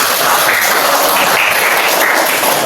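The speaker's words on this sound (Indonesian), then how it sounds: "Tepuk tangan." Classroom group applause, dense continuous clapping heard fairly loud and close, an even wash of many hands without pauses.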